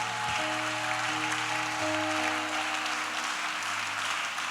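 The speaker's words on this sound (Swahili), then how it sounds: "Piga makofi kwa Yesu" A church congregation claps steadily in praise, a dense, even patter of applause over a sustained keyboard chord, fairly distant and soft.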